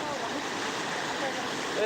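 Loud, steady rushing water roars without a break, a broad churning wash of a river in flood, close by.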